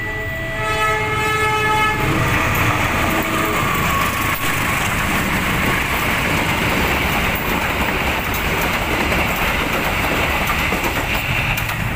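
A commuter train blasts its horn at a level crossing near the Pagerwojo shelter, then rumbles past loud and close, with continuous wheel and rail roar that fills the rest of the clip.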